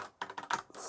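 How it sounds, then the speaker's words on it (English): A brief burst of clicky keystrokes on a newly built Amiga keyboard with red keys for big box Amigas, several quick, close taps with no speech. "super nice new Amiga keyboard for your big box Amigas"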